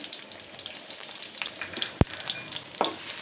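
Onion, garlic and dried chili frying in hot oil for a dal tempering, giving a soft, steady sizzle with light stirring sounds and one sharp clack of a utensil midway, no voices.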